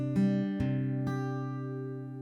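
Three plucked notes on an acoustic guitar from a fingerpicking pattern, the thumb landing on a C bass note, ring out clearly and close, then sustain and fade with no voices.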